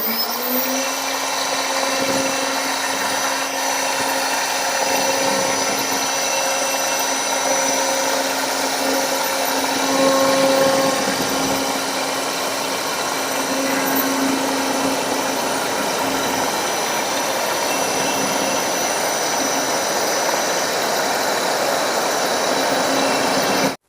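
A CNC router machine runs steadily with a continuous high-pitched motor whine and a broadband mechanical hum, holding a constant level throughout with no talking.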